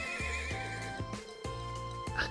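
A horse neighs in the video game Trails of Cold Steel, a loud whinny over steady game music with rhythmic clip-clop hoofbeats underneath, no talking.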